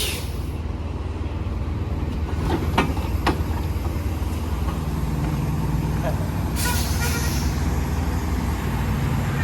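Semi truck backing a trailer into a loading dock, a steady low engine rumble throughout with a couple of sharp hissing air-brake bursts, and people talking nearby.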